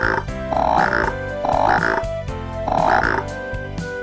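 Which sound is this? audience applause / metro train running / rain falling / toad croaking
toad croaking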